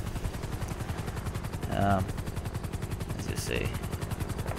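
A police helicopter in GTA V with the LSPDFR mod thrums with steady, fast rotor chopping that fills the scene, while someone speaks briefly over it.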